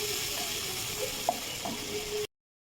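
Onions frying with salt, turmeric, chili powder, ginger paste and green chili paste give off a steady close sizzle, with a few light scrapes of stirring, ending abruptly.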